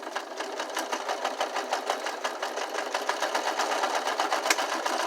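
A sewing machine runs steadily while stitching a curtain hem, its needle rattling in a fast, even rhythm, close and continuous with no voices.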